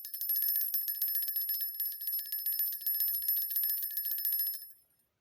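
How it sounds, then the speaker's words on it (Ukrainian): A small bright bell rings continuously in quick repeated strikes for several seconds, then fades out; close and clear, no voices. "послухайте, як дзвінить дзвіночок."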